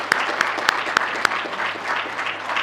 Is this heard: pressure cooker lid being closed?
no